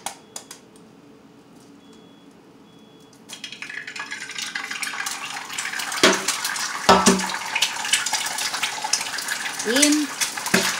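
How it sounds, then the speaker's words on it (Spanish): Two eggs dropped into hot oil in a pan, a bright steady sizzle and crackle that swells after a few seconds and stays loud, with small clatters of utensils and a voice talking over it. "Ahorita voy a echar mis dos huevitos"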